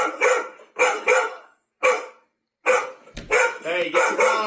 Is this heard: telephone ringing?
no